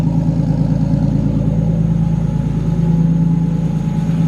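An RB25 engine in an R33 Nissan Skyline idles steadily after final assembly, giving a loud, close, even mechanical hum with a faint rhythmic clatter running alone and unchanging throughout.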